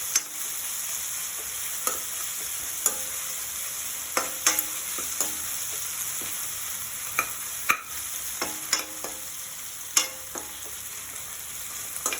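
Tomato, cashews and peanuts fry in a pan for upma with ginger, a continuous bright hiss punctuated by repeated spoon scrapes and clinks as it is stirred, close and clear.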